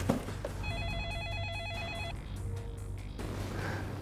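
A telephone rings with a repeated electronic warbling tone in bursts, over steady low hum and background noise, during a call in an Indonesian drama scene.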